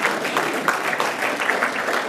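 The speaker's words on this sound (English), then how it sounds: "You can clap for these guys." Audience clapping for local fire district and county sheriff officials at a regional chamber morning event, a steady dense patter of many hands lasting the whole moment at close range.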